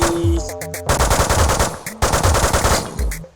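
Rapid bursts of automatic gunfire from a weapon in the video game Megabyte Punch, loud and close, with a brief gap before the rattling volley resumes alongside game music.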